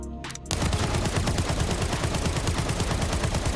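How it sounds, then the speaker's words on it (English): AK-74N automatic rifle fire in the video game Arena Breakout Infinite, a loud continuous burst of rapid shots after a brief quiet start, close and dense. "Here's a terrible recoil AK-74N versus a decked out AK-74N that cost me more than 500 grand."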